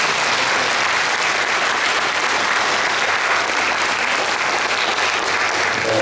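Sustained applause from a church concert audience at a congregation's anniversary classical concert, a loud, even roar of many hands clapping without pause.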